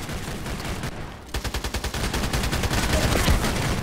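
Rapid automatic gunfire in the shooter game Contract Wars, a dense burst of evenly spaced shots that grows into continuous loud firing from close by.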